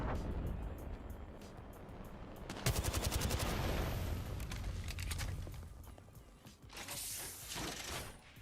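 Gunfire in Apex Legends, a sharp burst of rapid shots cutting in amid a busy game soundscape with mechanical clatter, followed by a further rattling volley near the end.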